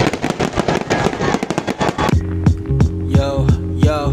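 Fireworks for the UAE's 48th National Day: a dense burst of rapid crackling and popping, followed by a few separate bangs over steady tonal music.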